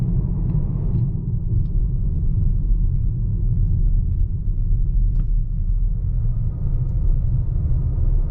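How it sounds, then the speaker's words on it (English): Steady low, broadband rumble of air induction and road noise inside a 2021 Volvo XC40 Inscription while driving, constant and fairly loud throughout with no talk and only faint small ticks above the drone. "You can really hear the air induction on this car."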